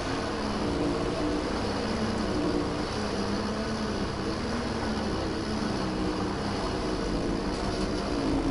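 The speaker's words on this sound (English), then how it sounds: "So you're in an aeroplane thing." A steady, loud drone of an aircraft engine in the video game PlanetSide 2 runs unbroken throughout, with no talk over it.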